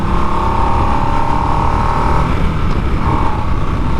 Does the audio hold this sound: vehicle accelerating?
yes